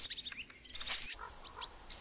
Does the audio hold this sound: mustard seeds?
no